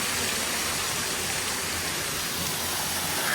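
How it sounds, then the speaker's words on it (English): A waterfall along a hiking trail in Big South Fork, a steady broadband rushing roar of falling water, constant and unbroken, moderately loud at a middle distance. "look at the waterfall"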